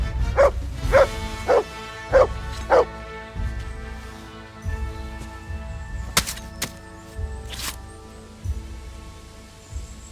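Several sharp dog barks in a quick run inside Kingdom Come: Deliverance, a medieval game scene, with low rumbling and clattering behind them before the barking gives way to quieter background movement.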